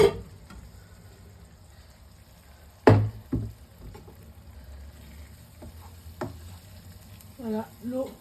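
Cooked onions in oil in a pan give off a low, steady sizzle with soft scraping stirs, with a few louder knocks of a utensil against the pan.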